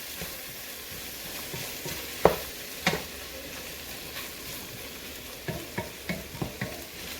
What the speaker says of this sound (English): So we'll start out with all the fresh veggies. Stir that in a little bit.